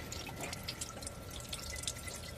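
Water runs steadily from a leaking Nissan Vanette radiator punctured by a broken idler pulley, a constant close trickle and spatter like an open tap, with no talking.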